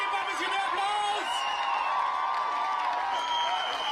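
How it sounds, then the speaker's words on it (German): Large outdoor crowd at a Fridays for Future climate demonstration in Berlin, with Greta Thunberg present, keeps up steady cheering, whoops and scattered clapping, a broad continuous roar with rising shouts and whistles throughout. "Gebt mal ein bisschen mehr Applaus"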